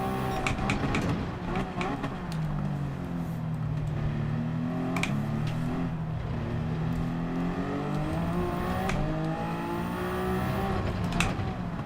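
A Toyota GR010 Hypercar race car engine in Gran Turismo 7 drones and revs steadily throughout, pitch rising and falling through gear changes with brief sharp transients, loud and continuous with no talking.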